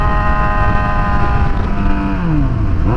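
Yamaha FZ6R motorcycle engine droning steadily up close, its pitch sliding downward as the bike downshifts, with rumbling low wind buffeting throughout.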